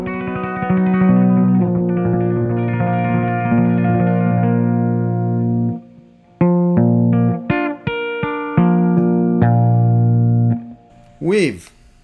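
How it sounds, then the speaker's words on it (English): An electric guitar played with a bowl sounds through effects, moving from a long droning sustained chord to clipped, stuttering plucked notes and a final swooping pitch bend, loud and close with no voice over it. "And this bowl alone sounds like this."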